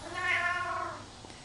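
A cat gives one drawn-out, close, fairly loud meow with a rising then falling pitch, fading toward the end without any talk over it.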